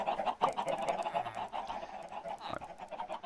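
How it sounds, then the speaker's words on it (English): A flock of chickens clucking on a Minecraft chicken farm, a dense overlapping chorus of short bird calls running steadily throughout at moderate level. "you hear a bunch of clucking"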